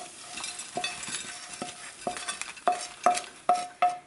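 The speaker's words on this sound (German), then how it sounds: "Jetzt noch einmal kurz verrühren." Vegetarian döner filling being stirred in a frying pan, with repeated scraping clinks of a utensil against the pan over a soft sizzle, close and alone.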